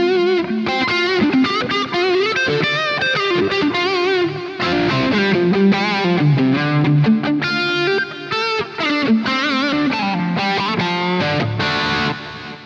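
A sweet low-gain electric guitar solo played through a Kemper profiling amplifier, with singing sustained notes, bends and quick runs that continue steadily at close range.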